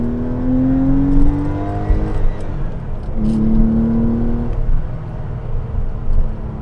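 A 993 Porsche 911 C4S engine revs up and climbs in pitch, drops for a gear change, then pulls hard again, steady and close from inside the car, no speech.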